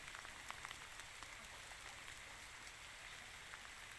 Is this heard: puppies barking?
no